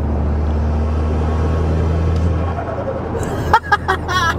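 A Seat Leon Cupra K1 idles with a steady low drone, then a few sharp, rapid turbo flutter chatters burst out near the end, loud and close.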